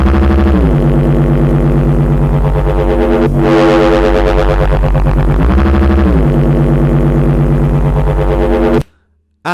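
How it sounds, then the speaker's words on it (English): Neurofunk bass preset built in the Phase Plant synth: a loud, gritty, distorted growl that holds for about nine seconds with shifting tone and sweeps, then cuts off abruptly. "I just made a preset called the Shield Door, and it's great because it's a sick, vital neurofunk kind of bass."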